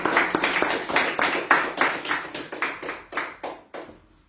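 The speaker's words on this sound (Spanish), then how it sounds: "damos un aplauso al Señor" A small church congregation claps together in a steady run of separate claps, close and moderately loud, slowing and thinning before stopping after about four seconds.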